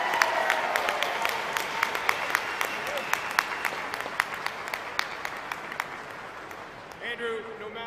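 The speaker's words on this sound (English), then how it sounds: "Another round of applause for the next Prime Minister of Canada" Convention audience clapping at the Ontario PC Convention, a sustained moderate wave of applause dotted with sharp individual claps that thins toward the end as a speaker's voice comes in.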